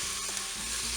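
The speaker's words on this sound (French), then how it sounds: "Je vais ensuite faire revenir les aiguillettes" Duck aiguillettes brown in a Cookeo multicooker with a steady, even sizzle for about a second and no voices.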